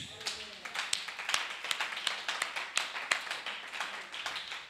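A church congregation applauds and acclaims Jesus with dense, continuous clapping, sharp hand claps stacked over a crowd wash, with a voice underneath.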